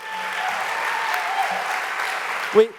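A crowd at a political forum on a Warren versus Sanders choice claps in sustained applause that fills most of the clip, then fades as a voice cuts in at the end.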